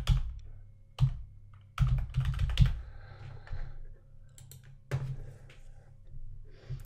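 Keys clack on a computer keyboard while a slide title is typed in PowerPoint, short bursts of close taps separated by pauses.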